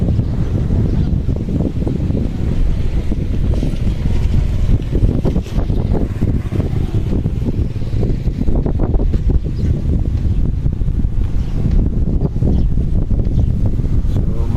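A steady rumble of a boat motor mixed with wind buffeting the microphone and rushing water, continuous and loud throughout.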